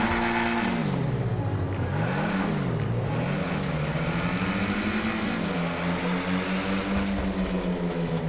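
A Lampadati Giulia Quadrifoglio sports car in GTA revs hard and accelerates, engine pitch swooping up and down through gear changes before settling into a steady, loud high drone.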